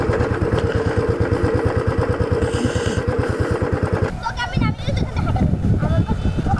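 A Royal Enfield motorcycle on a road gives a steady, loud, thumping engine beat for about four seconds before the sound shifts and voices come in.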